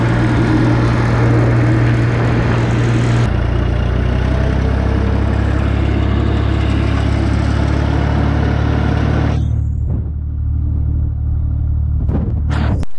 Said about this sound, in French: J'ai pris le tracteur